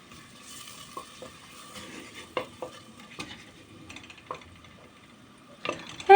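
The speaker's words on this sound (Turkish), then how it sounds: "Soğanımızı kavuruyoruz güzelce." Onions sauté in real butter in a pan, a soft, low sizzle under intermittent clinks and scrapes of a utensil stirring against the pan, with a louder clatter at the very end.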